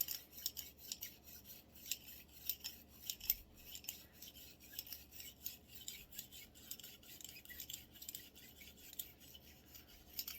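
A small brush scrubs Canik TP9SF pistol parts during cleaning, giving quiet, rapid, raspy back-and-forth strokes in an uneven rhythm at close range with no talk.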